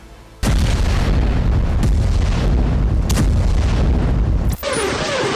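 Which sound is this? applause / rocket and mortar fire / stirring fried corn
rocket and mortar fire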